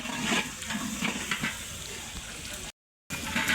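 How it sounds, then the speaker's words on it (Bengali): Onions and turmeric spice frying and being stirred in a pot for khichuri: a steady, dense sizzle with scraping pulses throughout, briefly cutting out before resuming. "আমাদের এই মুহূর্তে হচ্ছে কষানো হচ্ছে পেঁয়াজ এবং হলুদ মশলা দিয়ে"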